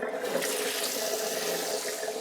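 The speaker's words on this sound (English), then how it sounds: "So I'm just gonna fill this up with cold water," Cold well water runs steadily from a tap into a container in a home kitchen, a continuous broadband rush that stays loud and even throughout with no talk.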